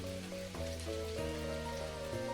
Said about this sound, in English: I love the rain sound.